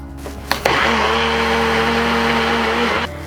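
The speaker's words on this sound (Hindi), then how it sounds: "तो सबसे पहले हमने दाल को ग्राइंड करना है" A kitchen grinder whirs steadily as it grinds soaked moong dal lentils into a fine paste, starting after a brief clatter and running loud and even for about two seconds before cutting off.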